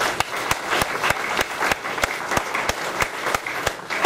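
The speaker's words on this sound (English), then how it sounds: "I think that deserves a clap" A steady round of applause from a crowd, dense clapping that holds at an even level for a few seconds with no talking over it.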